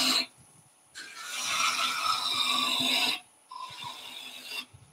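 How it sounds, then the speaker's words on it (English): A 1/4 inch (6 mm) bowl gouge cuts spinning wood on a lathe while baby toys are turned, a loud steady rasping shave in two long passes with a brief gap between, close and without speech. "So this is a bowl gouge I'm using, a 1/4 inch or 6 mil bowl gouge"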